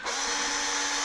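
A power drill bores into the inner skin of a dual-skin boat hull, giving a steady, loud, high motor whine that holds without a break.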